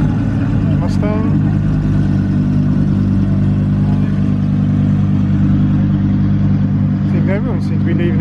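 Steady loud engine rumble of a Ford Mustang pulling away from a supercar show as other cars leave, with people talking over the drone throughout.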